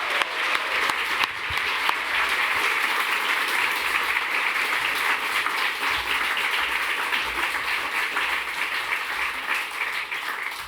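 An audience claps for the new Minister for Indigenous Australians at a public event, a dense, steady applause that holds at full strength for about eleven seconds with no talk over it.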